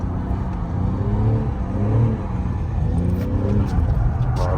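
BMW M3 engine revving hard under throttle while drifting on a track, a loud continuous close-up drone with rising and falling pitch sweeps and no break.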